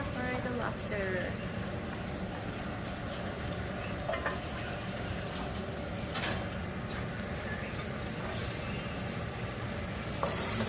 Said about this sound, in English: stir fry the lobster